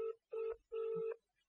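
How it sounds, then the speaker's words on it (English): Desk phone on an office phone system, reached through an auto attendant: three short ringback tone bursts with pauses between, clean and moderately quiet, heard alone. "you can hear it calling my desk phone"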